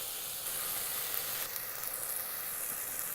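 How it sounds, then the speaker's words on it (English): Dry spice powders and shrimp hit hot fried onion and tomato in a pot, giving a steady, fairly quiet sizzle and hiss that runs evenly throughout with no talking. "Once the onion and the tomato are fried, we will add dry ingredients and shrimp together."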